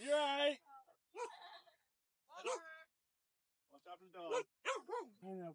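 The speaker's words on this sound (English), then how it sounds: "Watch out for the dog." A puppy gives several short barks and yips in bursts separated by quiet gaps, close and clear, with a person talking around them.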